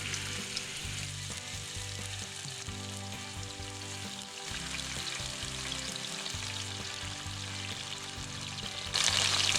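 Pheasant strips for fajitas fry in shallow oil with a loud, continuous close sizzle and crackle that swells slightly toward the end.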